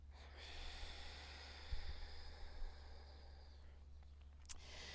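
Slow, steady Ujjayi breathing through a constricted throat, a soft ocean-like hiss, long and even, quiet and close, ending in a short sharper exhale.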